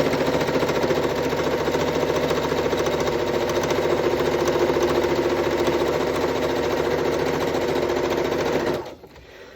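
A sewing machine zigzag stitching through bias tape on a fabric scrub cap, a steady close mechanical whirring drone that runs continuously before stopping abruptly near the end.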